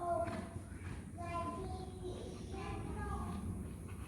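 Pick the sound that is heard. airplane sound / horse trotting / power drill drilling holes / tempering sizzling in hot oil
horse trotting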